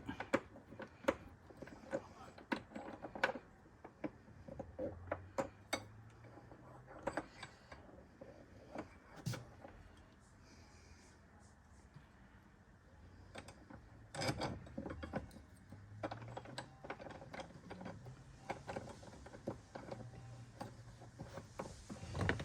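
Plastic handles being unscrewed on an Einhell cordless garden tool, faint scattered ratcheting clicks and creaks coming in irregular bursts with quiet gaps between them.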